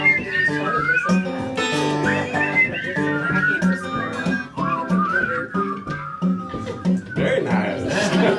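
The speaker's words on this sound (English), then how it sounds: "it's a whistle along time" Audience at a house concert in Frankfort, Kentucky whistling along to a song, many whistles blending in a steady melodic line over guitar and voices throughout.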